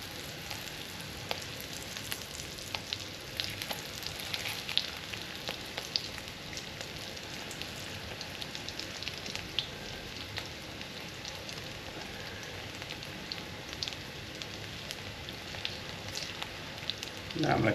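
Pierogies fry in a pan with onions, giving a steady, quiet sizzle with scattered light pops and crackles that continues throughout.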